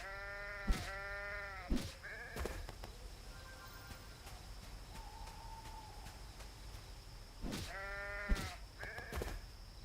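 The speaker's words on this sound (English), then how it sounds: "Might hit some of the sheeps on the way up." Sheep in a video game bleat in short wavering calls, two pairs of bleats near the start and again near the end, with light game sounds between and no talk.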